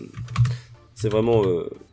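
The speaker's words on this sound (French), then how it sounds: "c'est un clavier méca. Quand je tape un truc c'est vraiment" Crisp clicking from typing on a mechanical keyboard fills the first second, close and fairly loud, before a voice starts talking over a quieter background.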